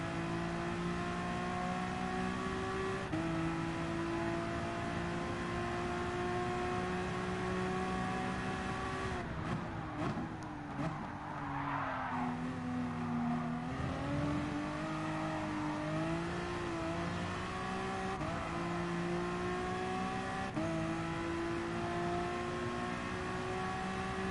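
A race car engine in the video game GT Sport drones steadily throughout, with a brief dip and a rising pitch sweep partway through as it shifts or accelerates, at moderate level with no talk.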